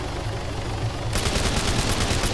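Rapid automatic gunfire in a capture-the-flag video game bursts in halfway through, a dense run of shots following a quieter stretch of background game noise.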